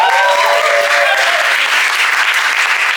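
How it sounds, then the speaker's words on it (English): Audience applause fills a live English comedy show, dense and steady for the whole stretch, with a few cheers or whistles rising above the clapping early on. "Give me a round of applause if you've ever seen an inconspicuous comedy show before."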